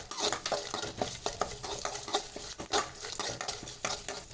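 Ingredients sautéing in a pan for drumstick-leaf powder rice until golden, with a continuous soft sizzle and frequent quick clinks and scrapes of stirring close by and no speech.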